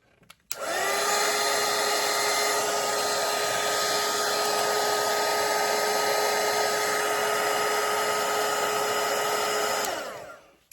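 A hair dryer blowing on a watercolour painting of a parrot, a steady loud whirring drone that switches on abruptly, runs unbroken for about nine seconds, then winds down, close by with no talk.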